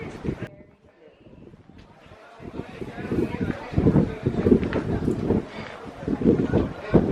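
Wind gusting on a hilltop at the Acropolis of Lindos in Rhodes, Greece, a rough, buffeting roar battering the microphone that builds and surges, with faint talking mixed in underneath.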